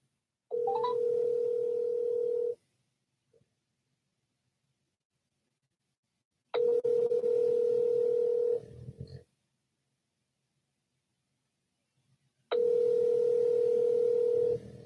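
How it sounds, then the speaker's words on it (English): Unanswered phone call: three long ringback tones about two seconds each, separated by roughly four-second silences, clear and steady with no one picking up. "I've called him twice now and he's not answering the phone."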